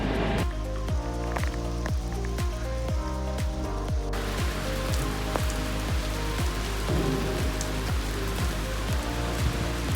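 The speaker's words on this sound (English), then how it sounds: "Last night there was a huge downpour." Heavy night rain pours down near Neuschwanstein Castle, Germany, drumming densely and loudly on a nearby surface, steady for the whole stretch.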